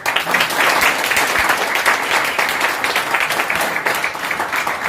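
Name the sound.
audience applause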